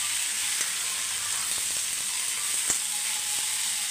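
Steady, close sizzling of food sautéing in a pan, with a few faint scrapes and clicks of stirring; no voices.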